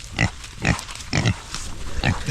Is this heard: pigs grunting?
yes